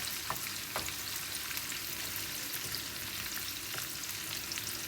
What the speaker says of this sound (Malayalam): ഇനി ഇത് ഇതൊന്ന് ജസ്റ്റ് ഒന്ന് വഴറ്റി കൊടുക്കാം